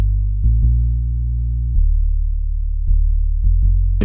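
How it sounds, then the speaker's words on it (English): Deep, booming 808 bass notes play a slow pattern following a 1-5 chord progression, long sustained tones shifting pitch at a few points, loud and alone. "I'm going to make a basic 808 pattern following a 1-5 chord progression."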